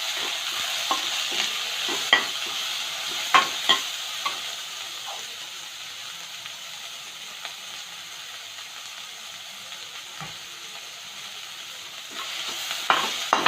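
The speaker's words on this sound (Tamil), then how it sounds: "வெங்காயம் வதங்கட்டும். கொஞ்சம் உப்பு போட்டுக்கலாம் வெங்காயம் வதங்குறதுக்கு." Onions sautéing with salt in a pan, a steady moderate sizzle broken by scattered spoon scrapes and clinks against the pan, with no voices.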